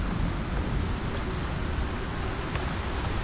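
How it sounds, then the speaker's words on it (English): A steady, dense wash of heavy rain from a storm in the survival game Icarus, with low thunder rumbling beneath it, continuous and loud with no let-up. "Okay, the storm is almost over."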